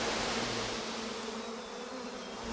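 Giant honey bees at their colony give off a dense, continuous buzzing drone, steady and fairly loud throughout with no voices.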